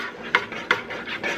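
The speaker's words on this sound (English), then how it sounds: "And we are just going to stir" Apricot glaze with a little garlic powder stirred in a pan on the stove, a utensil scraping round in slow repeated strokes with two distinct knocks against the metal, close and clear.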